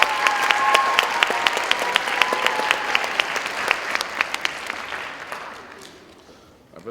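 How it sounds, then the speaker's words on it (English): Audience applause at a high school band winter concert, a dense burst of many hands clapping that holds steady for several seconds, then thins into scattered claps and fades out. "But please, another round of applause to these guys."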